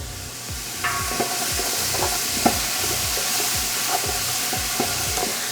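Vegetables for a marinara frying over a low-to-medium gas flame, a steady close sizzle punctuated by regular scraping stirs of a utensil across the pan, repeating roughly every half second.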